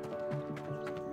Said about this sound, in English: They're horses.